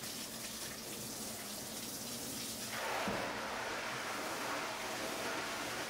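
Water from a small shower head under a tap sprays steadily onto a photo stencil screen for screen printing, a continuous hissing wash that swells louder about halfway through and keeps running close by with no talk.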